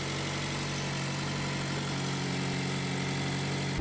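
A Mazda MX-5 ND with a BBR-tuned 2.0-litre engine runs steadily just after its first start, a loud, even hum with a constant low drone throughout.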